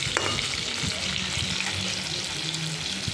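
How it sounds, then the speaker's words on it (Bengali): Hilsa fish pieces frying in hot oil with salt and turmeric, a loud, dense, steady sizzle with a faint clink near the start and no voices. "একটু ভাপালাম না, একদম তেলে ভেজে নিচ্ছি"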